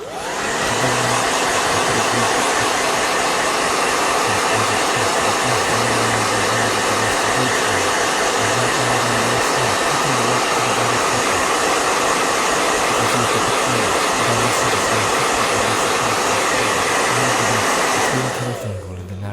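A blow dryer runs continuously for about nineteen seconds while drying a painting, a loud, steady, close airy roar that cuts off at the end.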